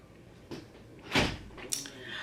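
Freezer door being shut, a few soft knocks followed by a firmer thump near the middle and a lighter click afterward, close and fairly quiet.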